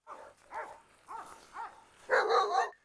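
A young Cane Corso barks in four short, sharp bursts, followed by a louder, longer run of frantic barking and yelping, close and alone.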